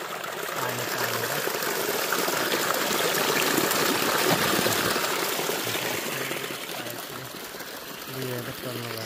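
Irrigation water gushes and trickles down a channel toward a tomato field, a continuous rushing wash heard close by, while a person talks over it.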